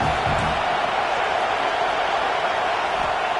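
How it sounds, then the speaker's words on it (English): Stadium crowd in a College Football Dynasty video game matchup against Kentucky keeps up a dense, steady roar of cheering with no breaks. "This crowd bringing the energy and noise early."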